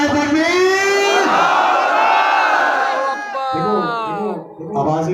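A large crowd at a Sindh Jashan gathering roars a slogan response in unison, a long, loud, sustained chorus of many voices, followed by shorter rhythmic shouted calls from the mass.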